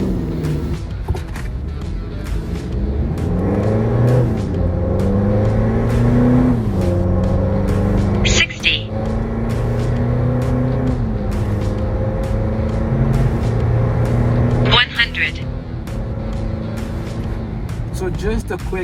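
A 2017 Mitsubishi Montero 2.4 with a full turboback exhaust and performance chip accelerates hard, its engine note climbing steadily through gear changes, loud and close, with brief breaks between gears.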